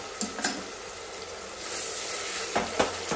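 Onions frying in oil for a chicken sambar: a steady, close sizzle with a few soft stirring knocks near the start and end, no talking.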